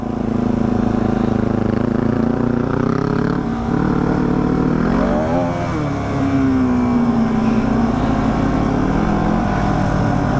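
Off-road motorcycles drone through a forest at night on slippery ground, a loud sustained engine note rising and falling in pitch as the throttle is worked, with a rider's voice briefly audible over it.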